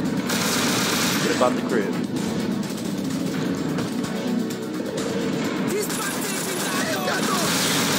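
Rapid gunfire from the video game Scarface: The World Is Yours, a dense continuous fusillade that runs loud through the whole stretch while someone talks over it.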